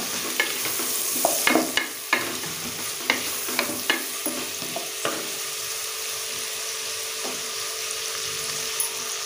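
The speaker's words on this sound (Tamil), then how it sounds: "மிக்ஸ் பண்ணிட்டு கருவேப்பிலை சேர்த்துக்கலாம். நல்லா வதக்கி வச்சுக்கலாம்." Curry leaves sauté in hot oil for egg biryani, a constant close sizzle punctuated by repeated scraping clicks of a spoon stirring the pan.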